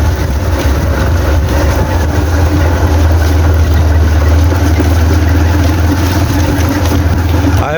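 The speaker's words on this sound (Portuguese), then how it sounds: "Tá meio balançando, gente, porque eu tô na moto" Motorcycle on the move, with a loud, constant engine and wind rumble throughout.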